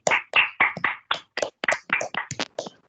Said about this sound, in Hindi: तो आई थिंक आप सबको उसके लिए तालियां बजानी चाहिए